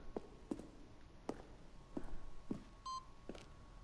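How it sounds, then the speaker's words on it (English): Beeping in The Stanley Parable, a faint series of short electronic blips and tones at irregular intervals, with one brief higher beep near the end, over a quiet background hum. "What is beep beep beeping?"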